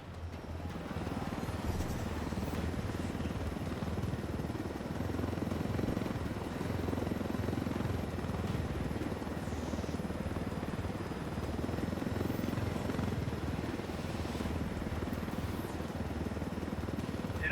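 A helicopter in Ghost Recon Wildlands drones continuously, its rotor thrumming in a dense low chop with engine whine above, loud and close and steady throughout.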